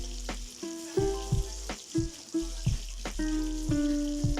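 Garlic frying in oil in a pan, a steady loud sizzle with bursts of spitting and crackling and a few clinks of a utensil, close up with no talk.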